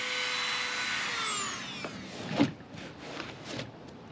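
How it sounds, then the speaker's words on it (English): A vacuum cleaner hums loudly, then winds down as its motor spins off, followed by a few light knocks and rustles. "I'm gonna get a vacuum and vacuum this up."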